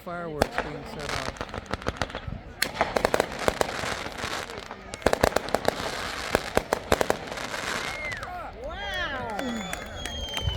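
Illegal fireworks going off in San Jose, a dense barrage of sharp cracking bursts and rapid popping volleys, with whistling shells rising near the end, loud and continuous over crowd noise.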